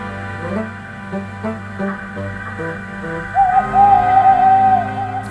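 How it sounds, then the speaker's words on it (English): An owl hoots several times in a row, low and steady, with soft sustained tones around it and a thin rising whistle joining near the end. "Henry, whenever that owl hoots, a mist rolls in."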